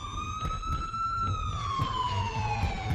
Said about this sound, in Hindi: हमारे घर के बाहर पुलिस और एम्बुलेंस की सायरन बजने लगे।